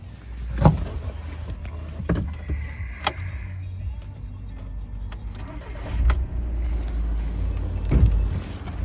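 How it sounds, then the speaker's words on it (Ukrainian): A 2014 VW Caddy 2.0 TDI diesel engine with DSG gearbox idles steadily with a low rumbling hum, punctuated by a few sharp clicks and knocks; no voices. "Двигун працює чудово"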